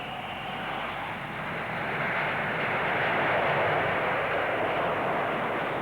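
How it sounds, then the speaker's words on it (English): Jet aircraft landing with thrust reversers deployed on all engines at the 1960s Farnborough airshow: a steady, broad roar that swells slightly midway and holds loud to the end, with no voices. "shorter landing runs are made possible by the use of thrust reversers on all engines"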